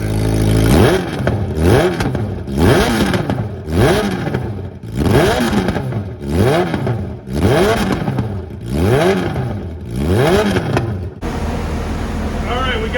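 A bone-stock 2022 Suzuki Hayabusa motorcycle engine revs hard again and again, about eight sharp rising-and-falling blips in a steady rhythm, loud and close, before it settles to a rough idle.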